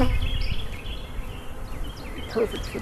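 Honey bees and drones hover around an open hive during a spring split, giving a steady low buzz with a few nearer fly-bys and light background sounds.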